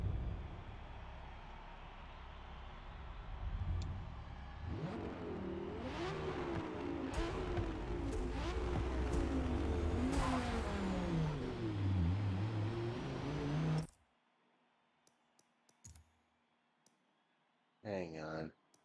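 A race car engine in a video game on the Le Mans track howls at full throttle, its pitch climbing and falling through gear changes, loud and close. Then it cuts off into near silence with scattered clicks and a brief voice.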